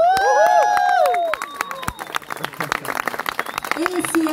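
A street theatre troupe gets applause from a festival crowd, with clapping and cheers that rise under a loud announcer's voice and then carry on as scattered claps and shouts.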